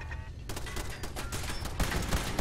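Gunfire from Fallout 4 on survival difficulty: a dense burst of rapid shots starting about half a second in, continuing loud and close with a heavier cluster near the end.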